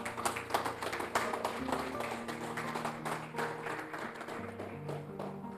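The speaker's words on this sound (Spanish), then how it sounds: "Dale un aplauso a que vive y reina." Congregation clapping during a church service, with rhythmic claps and taps over steady sustained music notes, moderately quiet and continuing throughout.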